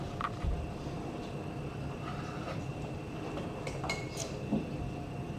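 Slices of gluten-free pizza are served onto plates, with scattered clinks and scrapes of utensils against dishes at close range in a quiet kitchen.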